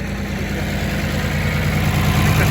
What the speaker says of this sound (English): Get in the tractor.